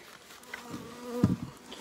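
Honey bees buzz faintly around an opened hive, with a brief louder buzz as one passes close near the end against a quiet background.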